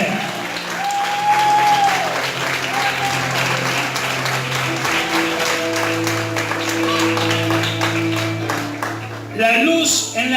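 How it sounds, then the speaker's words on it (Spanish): Applause from a church congregation at an evangelical service rises and sustains for about ten seconds, loud and dense, with a voice speaking over it and held musical tones in the background. "si es para el Señor, dáselo más fuerte"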